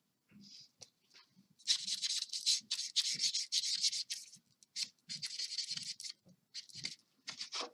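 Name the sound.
creasing the central fold of a handmade card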